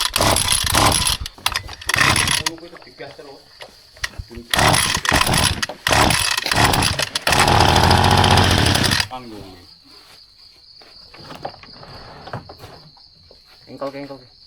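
A pressure-washer engine runs loud and steady for several seconds while spraying down a very dirty, mud-caked motorcycle, with bursts of spray hiss in between and a high whine lingering afterward; people talk over it in places.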